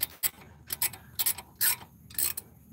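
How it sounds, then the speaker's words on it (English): A wrench tightening a brake caliper bolt during a brake inspection, heard as about six short, sharp bursts of close ratcheting clicks with brief pauses between them. "And now we can go ahead and put our wrench on it and finish tightening it up."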